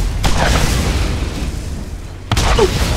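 A grenade blast in the video game Borderlands, a loud booming burst with dense low rumble that carries on, followed by a second sharp impact near the end, no talk over it.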